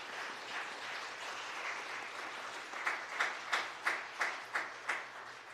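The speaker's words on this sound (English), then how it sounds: "And we do that with an applause." A church congregation applauds during a worship service, soft scattered clapping that builds into a brief rhythmic round of claps near the end, heard from a distance in a reverberant room.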